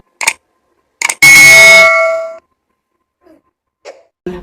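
Notification bell sound effect: a loud, sharp metallic ding ringing out and decaying over about a second, framed by short clicks and soft taps in near silence.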